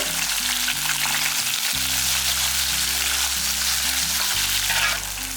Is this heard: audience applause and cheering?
no